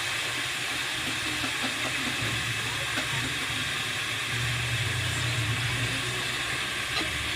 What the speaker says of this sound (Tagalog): Kumukulo na kaagad eh.